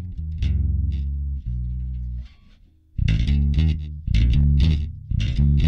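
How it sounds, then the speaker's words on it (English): An IYV IMM-305 five-string bass guitar plays a groove of deep, sustained notes. The notes come in bursts with a brief gap midway and carry an effects-coloured, slightly distorted tone, with no voices. "It's a great sounding bass"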